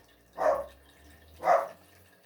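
A dog barks twice, evenly spaced about a second apart, close by in an otherwise quiet room.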